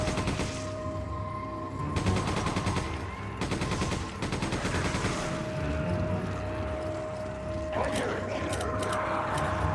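Pistol gunfire rings out in the Resident Evil 5 video game, rapid bursts of repeated shots in quick clusters over a busy game soundscape with a steady tone, fairly loud, with players talking over it.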